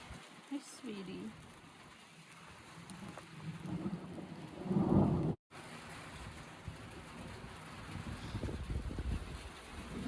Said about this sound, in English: The storm didn't seem to change much